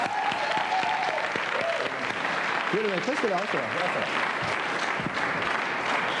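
Studio audience at a television show applauding for Patrick Brosseau, a steady wash of clapping with cheers, while people talk briefly over it.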